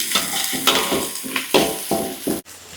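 Chopped dried shrimp (ebi) frying in a hot pan for bakcang filling, a steady close sizzle broken by repeated scraping stirs of a spatula, about five rhythmic strokes, with no talking.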